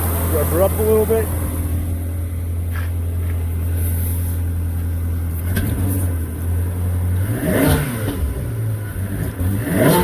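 A 2001 Ferrari 360 Spider idles close by, then is blipped through several sharp revs that rise and fall over the steady engine drone, with a person speaking briefly under the engine.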